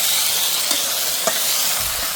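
Meat being sautéed in hot oil in a kadai by a cook: a steady, loud sizzle throughout, with a couple of soft stirring scrapes and no talking.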